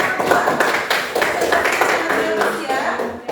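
A classroom of students claps for a group, producing a dense, lively patter of many hands that carries on steadily at close range, with some voices mixed in.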